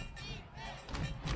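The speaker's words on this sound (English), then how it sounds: "The bleachers are booming" Crowd booming in football stadium bleachers at a Cal Lutheran vs. Chapman game, a steady roar of many voices rising toward the end, with broadcast talk over it.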